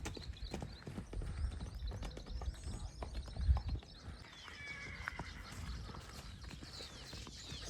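A mare carrying a rider clip-clops along with uneven hoof falls, loudest about midway, and a whinny sounds near the end among faint birdsong.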